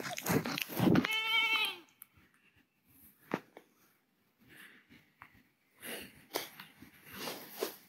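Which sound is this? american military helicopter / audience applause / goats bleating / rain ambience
goats bleating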